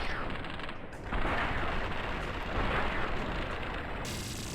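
Automated security turrets at the Helios One solar array in Fallout open fire, a sustained, dense burst of game gunfire that swells and holds steady across the whole stretch, loud and close, with no talk over it.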